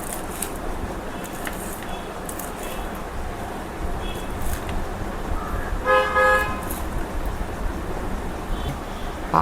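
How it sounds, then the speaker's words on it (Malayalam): A car horn sounds in a short burst of honks near the middle, set against a steady background of ambient noise in a home kitchen setting. "കാറിൻ്റെ ഹോൺ അടിക്കുന്നത് ഭയങ്കര ഒച്ച."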